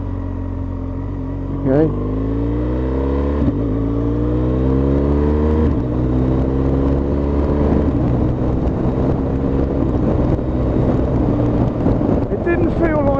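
A car engine pulls hard and loud under load, its pitch climbing and then dropping several times in steps as it runs through the gears. The drone is continuous and close throughout, with a brief spoken word near the start.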